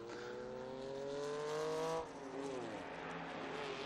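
A Lotus 7 race car overtakes a Ford Falcon at Estoril during a classic car race, with an engine howl rising in pitch, then dropping away after a shift, heard at a distance without talk.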